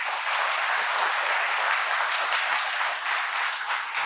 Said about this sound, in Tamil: அனைவருக்கும் கைத்தட்டி மகிழ்ச்சியுடன் வாழ்த்து தெரிவிக்கிறேன்